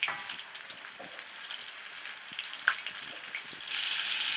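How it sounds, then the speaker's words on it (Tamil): Popcorn chicken pieces fry in hot oil, giving a soft, continuous sizzle with scattered crackles and pops. The sizzle swells louder near the end, and no one speaks. "இப்போ ஒவ்வொன்றா இதை சேர்த்துடலாம். போட்டால் இந்த மாதிரி பொரிஞ்சு வரணும்."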